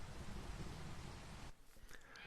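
Steady rain from a Minecraft thunderstorm, a dense wash of broadband noise with low rumbling underneath that drops away partway through, leaving quieter game sounds.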